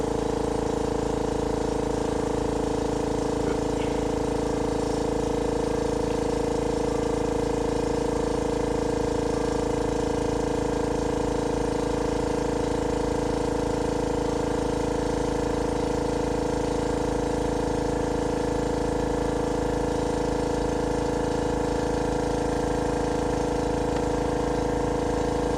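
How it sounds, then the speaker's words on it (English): An air compressor runs continuously as it refills, a loud, steady mechanical hum with no pauses and no voices, during a baseboard installation. "I'm waiting for the air compressor to catch up"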